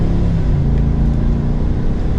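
A 2024 Chevrolet Silverado 1500 ZR2 cruising on the highway at normal speed, its engine and road noise forming a loud, steady low rumble inside the cab with no talking.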